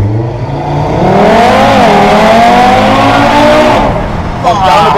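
An Audi TT engine revs hard and rises in pitch as the car launches, loud and close, with a brief tire chirp near the end.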